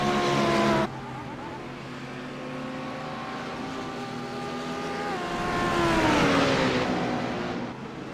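Race cars in a sim racing game at Summit Point scream past in a close pack, engines rising and falling in pitch through gear changes, loud and continuous with one car dropping away near the start.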